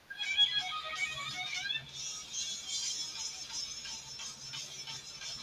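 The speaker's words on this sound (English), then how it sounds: "he's got a hell of a ringtone" A bright, melodic phone ringtone plays in repeating tonal bursts, fairly clear over a low background hum.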